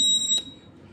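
A student-built emergency alert system sounds its buzzer alarm, a steady high electronic tone lasting under half a second before it cuts off and leaves faint room noise.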